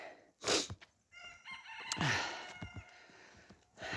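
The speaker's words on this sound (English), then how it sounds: "She is our friendly hen." A friendly hen on a farm sends out loud crowing and clucking calls in several bursts, close by, with quieter gaps between them and no speech.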